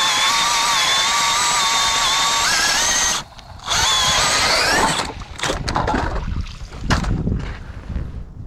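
An ice auger drills a hole through lake ice for first-ice crappie fishing in Minnesota. It gives a loud, close, whining squeal that cuts out briefly, starts again, then breaks into rough, uneven grinding.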